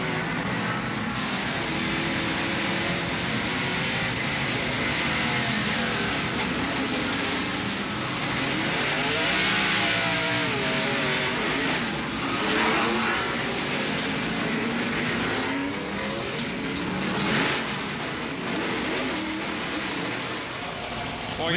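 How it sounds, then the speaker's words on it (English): In-car audio from a NASCAR stock car spinning at Sonoma Raceway in 1994, the accelerator pressed mid-spin: a loud, continuous engine roar that rises and falls with revving, with a commentator's voice running over it. "We could hear Terry Labonte nail the accelerator as he was in the middle of the spin"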